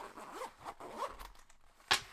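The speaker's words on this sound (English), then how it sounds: "The main compartment is double zippered." Zipper pulled along the double-zippered main compartment of a water-resistant MagPac modular magnetic organizer pouch, several short close rasping strokes in a row, the last one a quick sharp zip.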